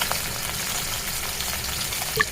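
Shing catfish sautéing in hot oil in a pan, a steady close sizzle with faint crackles throughout and a brief sharper pop near the end.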